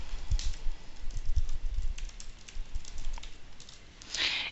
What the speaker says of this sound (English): You can just type in your content here.